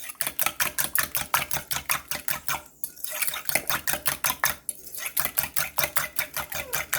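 Egg mixture for French toast being beaten in a bowl, with fast, even, rhythmic whisk taps against the side, close and loud, pausing twice briefly before resuming.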